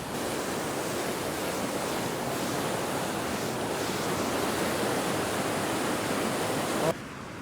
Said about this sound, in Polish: tu jakaś wrząca rzeka